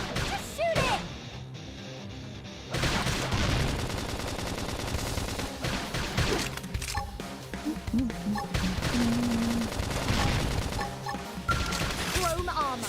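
Gunfire and impacts in the video game Xenoblade Chronicles X: loud, busy bursts of shots, crashes and hits layered over battle music and character voices calling out during combat.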